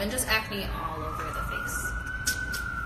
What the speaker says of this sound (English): Excuse the sirens, you guys already know.